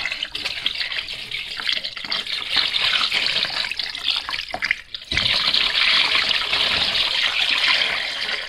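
Water runs steadily from a tap in a continuous broadband rush, briefly interrupted midway before resuming louder and fuller.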